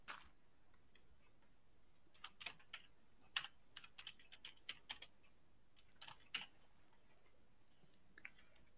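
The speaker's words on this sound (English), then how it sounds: "sorry for typing a lot. I'm just texting a friend." Quiet, scattered taps on a keyboard come in irregular bursts and isolated clicks over several seconds, close to the mic, faint against a low steady background hiss, with no talking.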